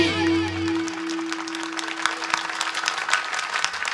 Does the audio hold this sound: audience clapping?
yes